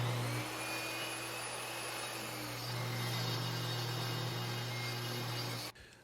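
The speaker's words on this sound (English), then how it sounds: "I ran all the pieces through the table saw to get to the final height." A table saw runs wood pieces through to final height, giving a steady, dense, humming whine that lasts several seconds, holds a constant motor tone, and then cuts off abruptly, quiet and alone, with no voices.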